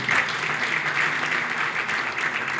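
An audience at a football event gives a short, dense burst of clapping that stays steady and full throughout, with no speech over it.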